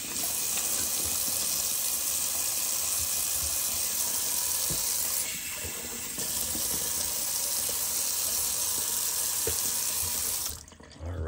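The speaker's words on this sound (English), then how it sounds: "Little cold water rinse." Cold water runs steadily from a faucet into a sink during a shave rinse, a constant close splashing that cuts off near the end.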